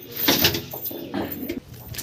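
An older pair of tournament racing pigeons in a breeding loft coo in short, throaty bursts that rise and fall, close by, with small shuffling noises between the calls.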